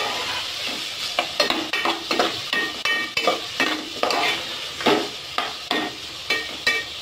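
A spoon stirs spiced rice with chopped potato in a pan, scraping in a regular rhythm of about two strokes per second over a soft sizzle.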